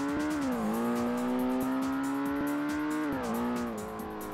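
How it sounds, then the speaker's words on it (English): Ford Mustang engine in the racing game Ford Racing, a loud, steady buzzing drone that dips briefly, then revs back up and holds, with no talk over it. "Yeah, the engine popping noise."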